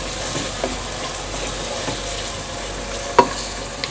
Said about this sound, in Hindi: और इसको दरमियानी आंच पर मैं लाइट ब्राउन होने तक इसको फ्राई करूँगी।